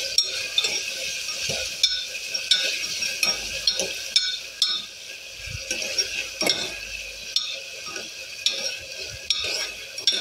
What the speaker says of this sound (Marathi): ते एकदम घालूया कुकरमध्ये आणि परतून घेऊयात